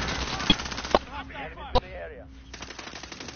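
Bursts of automatic gunfire crack out in a war video game, three sharp shots spaced apart over a steady background hum, while a voice speaks briefly.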